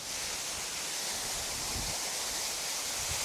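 A waterfall on the Azores pours in a constant broadband rushing roar, steady and fairly close, with no break and no talking.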